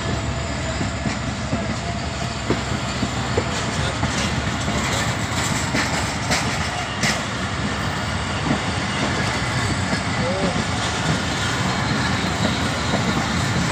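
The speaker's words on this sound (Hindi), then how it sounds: "ये ट्रेन हैदराबाद को जा रही है।" Passenger train bound for Hyderabad passing near Rashid Abad, Tando Allahyar, a continuous loud close rumble with rhythmic wheel clatter and occasional faint squeals throughout, no talk.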